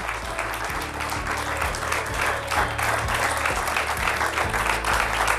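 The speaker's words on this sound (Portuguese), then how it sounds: "Um aplauso para ela." A TV talk-show studio audience in Portugal applauds a guest, a dense, sustained clapping that swells slightly midway and carries steadily throughout.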